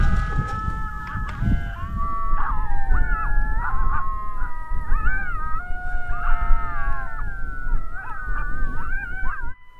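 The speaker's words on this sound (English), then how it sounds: "The old pup serenade's bringing in another one." A coyote pup serenade call plays from a predator caller in the Badlands during breeding season, a sustained chorus of wavering yips, howls and whimpers, loud and close over steady wind rumble.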